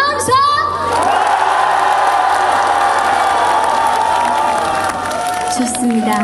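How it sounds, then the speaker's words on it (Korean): An outdoor crowd at a Buddhist temple mountain-side concert in Bongwonsa, Sinchon, claps and cheers loudly and steadily for several seconds, with shrill shouts and whoops from children and adults mixed in. "이렇게 한 곡이 끝날 때마다 요 정도로 박수 함성 보내주셔야 돼"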